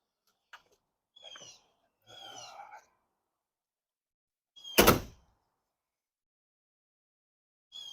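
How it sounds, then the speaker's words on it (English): A door on a 1966 Dodge Hemi Charger shuts with one solid, heavy thunk partway through, after a few soft breathy sounds and a small click, then quiet. "That was a solid door close."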